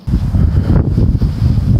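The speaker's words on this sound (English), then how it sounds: "It's getting pretty windy out here." Strong outdoor wind buffets the microphone in loud, continuous low-frequency gusts, roaring close and steady throughout.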